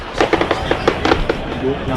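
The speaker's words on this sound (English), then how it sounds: "Good to hear that the fireworks display is good for the Cressing Road crowd." Fireworks bursting near a football ground during a Woking v Southend United evening match on Bonfire Night, a string of sharp cracks and pops scattered over two seconds amid crowd noise and a commentator's voice.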